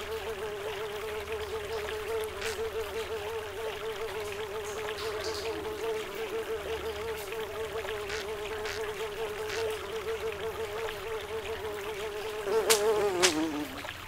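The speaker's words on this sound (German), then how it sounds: "Das war die Fliege, die haben wir da hier." A fly buzzes in the Silent Nights video game, a steady, close, continuous drone that lasts throughout and ends with a few faint clicks.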